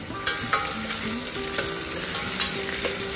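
Ginger garlic paste sizzling in a hot pan for Nagpuri-style masala rice, a steady close fry with sharp scraping clicks as a spoon stirs it, no voices.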